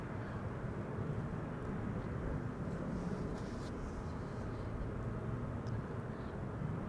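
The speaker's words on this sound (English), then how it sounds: "KLM flight 1020 is already approaching behind me." A KLM airliner on approach to Amsterdam Schiphol Airport on a sunny afternoon, heard as a steady, broad engine roar that holds level and fairly loud throughout, with no voices over it.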